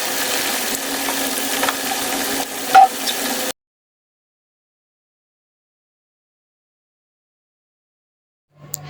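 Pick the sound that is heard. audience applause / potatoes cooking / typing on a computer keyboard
potatoes cooking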